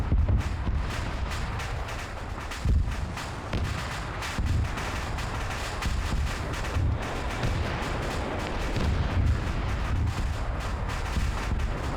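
Static defense turrets in the Mission Dev video game fire continuously, a dense, loud barrage of overlapping booming shots with heavier thumps breaking through at irregular moments throughout, with no voice over it.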